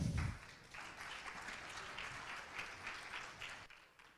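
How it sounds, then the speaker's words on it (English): Audience applause at a Bitcoin conference talk fills the clip, a dense, steady patter of many hands clapping at moderate distance, fading slightly toward the end. "please, round of applause for Federico."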